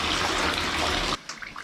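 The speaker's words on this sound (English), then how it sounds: "you want to agitate the water a little bit." Water in a bathtub holding a few gallons, sloshed and agitated by hand to wash a down quilt: a loud continuous churning splash that stops abruptly, followed by small drips and swishes.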